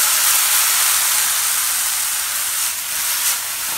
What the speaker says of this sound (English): Samantha's got the mushrooms in the skillet.